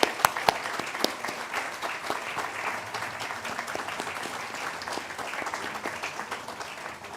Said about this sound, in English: so we can recognize you and applaud you